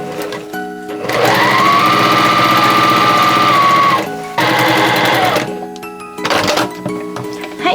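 A sewing machine stitches yukata fabric close up, with a long steady whirring run, a pause, a second run, then a short final burst for the backstitch.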